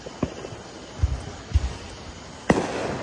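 Independence Day fireworks: a few scattered pops and thumps at a distance, one sharper bang near the end, over faint outdoor background.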